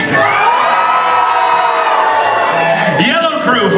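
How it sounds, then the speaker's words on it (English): An audience split into crews at a pirate-themed dinner show cheers loudly for its pirate, a dense roar of shouts, whoops and children's yells that fills the room and swells again near the end. "Green crew, how will you cheer for Jose Guitar?"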